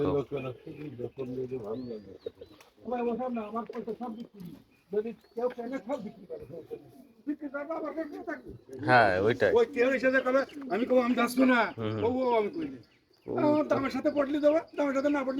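Pigeons cooing on a pigeon farm with native, foreign and racer birds, low soft coos running under near-constant conversation between people close by.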